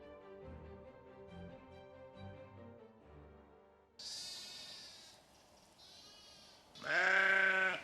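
Several sheep bleat loudly nearby after a quiet stretch of soft background music, the calls rising and wavering, the last one loudest.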